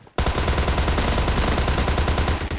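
Rapid automatic gunfire from PUBG Mobile Lite, a loud, continuous burst of evenly spaced shots that runs nearly nonstop without speech over it.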